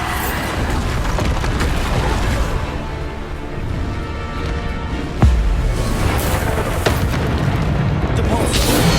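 Bombarda explosion spell cast in the game Hogwarts Legacy, a loud dense booming blast with sustained rumbling and crackling debris, sharp extra bursts midway, heard with game noise and a voice over it.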